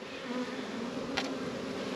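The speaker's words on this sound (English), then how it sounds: "we're going to shake our bees off into a bee holder" Honey bees drone in a steady, close buzz, a continuous low hum with a brief louder flicker as one passes near, no voices.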